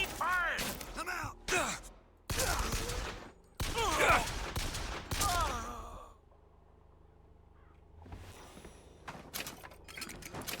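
Gunfire in the video game Bioshock Infinite crackles in rapid bursts, loud and close, mixed with voices and grunts, then drops to a quieter stretch near the end.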